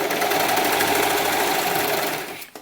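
Sewing machine running steadily as it stitches fabric for a doll's sunsuit, a close, continuous mechanical whir for about two seconds that slows and trails off at the end.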